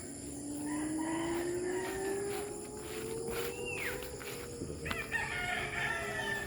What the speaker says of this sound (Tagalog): Ayan guys yung mga manok niya.